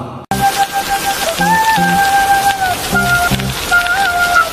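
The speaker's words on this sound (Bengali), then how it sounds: "এই যে বৃষ্টিতে ভিজে ভিজে যাচ্ছি" Steady rain pattering hard on a surface close by, with a faint tonal hum running through and a brief thump at the start.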